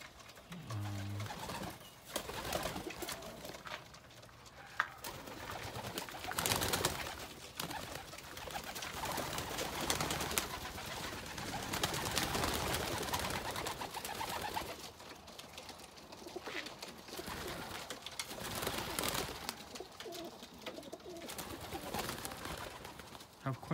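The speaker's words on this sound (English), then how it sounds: "Here's the update on my homing pigeons." Homing pigeons, racing homers with several young reds hatched this year, coo steadily inside a loft, soft continuous murmuring layered with faint rustling and occasional wing flutters at close range.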